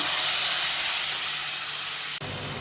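Asafoetida and ready-made spice masala hit hot oil for chole, producing a loud, continuous steam-like hiss and sizzle that fades slightly, dips briefly, then carries on.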